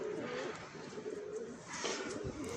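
Soft cooing of pigeons, faint and low, repeating against a background murmur.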